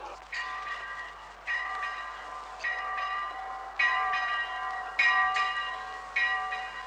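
Church bells of a Poor Clares convent ring out in slow, heavy strikes, each peal leaving a long ringing hum that overlaps the next, loud and clear with no voices.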